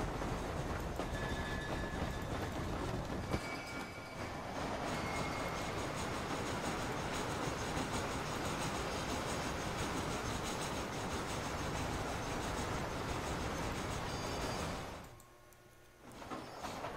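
A train running in Red Dead Redemption rumbles steadily with dense, continuous rolling noise and faint clatter, holding level for about fifteen seconds before briefly dropping away, then resuming.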